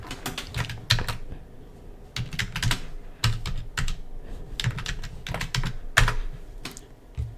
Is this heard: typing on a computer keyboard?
yes